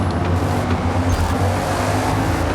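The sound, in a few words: race car engines in the video game Forza Motorsport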